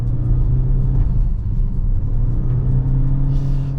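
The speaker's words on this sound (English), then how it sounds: "when you do accelerate, you still get what's probably best described as mooing." A 2023 Toyota Corolla hybrid with a CVT gearbox drones and hums steadily under acceleration, a continuous low moaning whir that holds a nearly constant pitch throughout.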